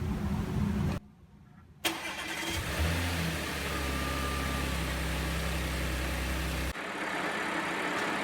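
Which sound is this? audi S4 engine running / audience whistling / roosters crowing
audi S4 engine running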